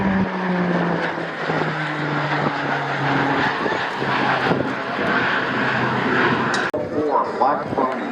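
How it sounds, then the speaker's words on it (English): Boeing business jet engines roar steadily nearby at an airshow, a droning, shifting tone that sustains loudly throughout, with a voice speaking over it. "Listen to these engines."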